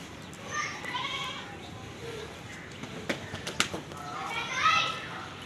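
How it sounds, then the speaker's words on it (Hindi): Goat bleats from a nanny goat with two male kids at a livestock market, intermittent calls mixed with children's voices and people talking nearby. "ये मेरे पास एक बकरी है और 2 बच्चों के साथ है"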